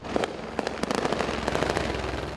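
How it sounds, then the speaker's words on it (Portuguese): Rapid bursts of sharp cracking military rifle shots in Rio de Janeiro, some close and some farther off, popping irregularly over a steady background rumble. "No Rio de Janeiro não são raros os sons dos disparos de armas de guerra."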